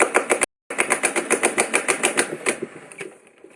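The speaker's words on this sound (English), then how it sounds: "Okay, continuing the firing test. Safety off, rev it." A Nerf Rival Prometheus blaster revs and fires a rapid, steady burst of rounds for about three seconds, briefly cutting out near the start, then the motor winds down at the end.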